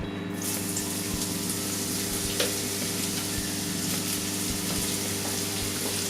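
Sliced zucchini rings sizzle in olive oil in a pan, a steady close frying hiss with a constant low hum and a few soft clinks, no talking.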